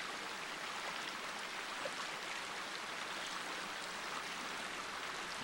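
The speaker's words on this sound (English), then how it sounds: "A beautiful spot near this stream," Cottonwood Creek flows beside a quiet mountain campsite, a steady broadband rush of water, constant and unbroken with no voices.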